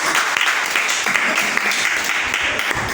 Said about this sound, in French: Est-ce que quelqu'un peut acclamer fortement pour la présence